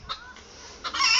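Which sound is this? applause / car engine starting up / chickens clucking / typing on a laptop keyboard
chickens clucking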